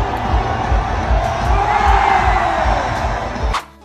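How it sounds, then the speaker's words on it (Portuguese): Real Madrid fans celebrate in the streets of Madrid, a large crowd cheering and chanting in a steady rhythmic roar that holds loud throughout before dropping off sharply at the end. "uma grande festa da torcida do Real pelas ruas de Madrid"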